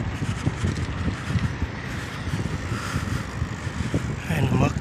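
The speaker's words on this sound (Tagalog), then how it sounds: "Grabe ang hangin ah." Strong wind buffets the microphone outdoors near a roadside McDonald's in Saudi Arabia, a continuous loud low rumble with traffic noise mixed in.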